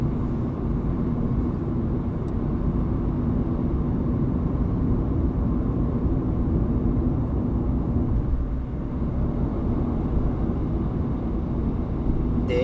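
Honda Fit 3 hybrid cruising with its engine running, a steady low road-and-engine rumble heard from inside the cabin, constant and unbroken with no talking.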